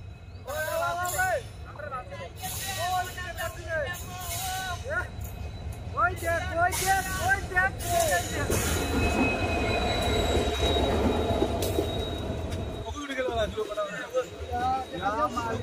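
A passenger train pulls into a station at the Bhuban Mela in Assam, its wheels squealing in high, wavering bursts over heavy rumbling and clatter, loud and close, while people talk and call out nearby.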